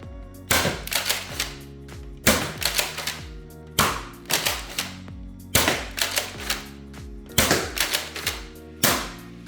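A Dart Zone Nexus Pro blaster fires long darts fed from a Nerf magazine in quick bursts, sharp mechanical snaps and clacks coming in regular rapid volleys separated by short pauses, close and loud with no talking.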